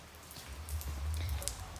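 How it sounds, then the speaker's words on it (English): Light rain pattering steadily outdoors, a soft continuous patter with a low rumbling undertone, heard from indoors during a leopard gecko rehoming. "It's raining, as you can see."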